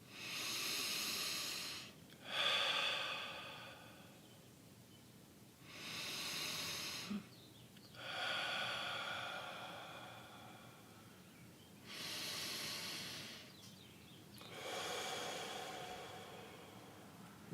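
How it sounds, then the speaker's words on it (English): Slow, deep breaths drawn in through the nose and released out through the mouth during a guided meditation, three long airy cycles in a quiet room, soft and close with pauses between each breath. "Breathing deeply in through the nose and out through your mouth."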